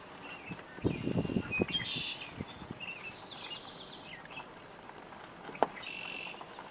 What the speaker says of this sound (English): Hear a robin singing in the distance.